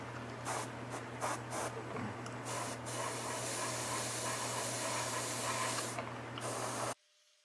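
Short bursts from a silver spray-paint can hiss in quick succession, then a long continuous spray follows, close by and quiet, ending suddenly.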